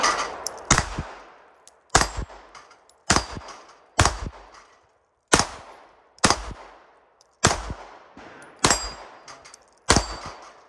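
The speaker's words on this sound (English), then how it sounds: "Let's try with some steel case," Pistol firing steel-case ammunition from a 13-round magazine, ten sharp, loud shots in an uneven rhythm about one per second, some in quick pairs, each with a short ringing tail, with no talking.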